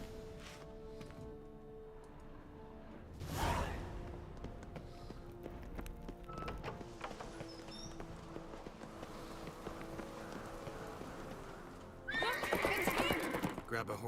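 A horse in The Witcher 3 whinnies loudly twice, once early and again near the end, over a steady bed of clip-clopping hooves and faint game ambience.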